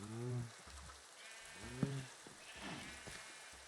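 Minecraft sheep give several short, nasal bleats at moderate distance, spaced irregularly over a faint background hiss with a soft crackle.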